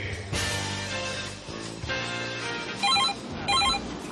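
A telephone bell rings in two short bursts near the end, over steady background music on a Brazilian football talk show, with no one speaking.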